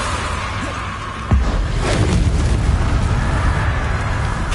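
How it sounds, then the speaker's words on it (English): A Confringo spell blast in Hogwarts Legacy, a sudden booming explosion that lands after a quiet moment and rolls into a dense, rumbling roar with crackling debris. "Confringo."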